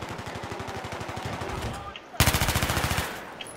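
Rapid automatic rifle fire in Battlefield 3, on the Strike at Karkand map in Conquest mode, rattles in a long steady stream, then pauses and returns in a sharper, louder burst, close and continuous.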